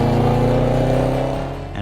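A supercharged 5-litre V8 petrol engine in a Range Rover Sport SVR revs loudly and steadily, a deep sustained roar close by that eases off slightly near the end, with no talking.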